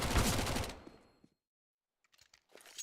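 SMG gunfire from a Counter-Strike match bursts in a dense rapid stream, then cuts off to near silence before a few faint scattered shots return.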